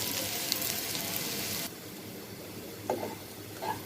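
Small red potatoes frying over low heat, a steady soft sizzle and crackle that drops quieter partway through, with a few faint clinks near the end.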